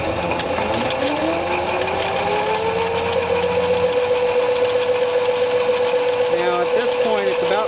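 An electric go-kart motor driven through a semiconductor speed controller rises to full throttle, its steady electric whine climbing in pitch and then holding a high, even drone, loud and close.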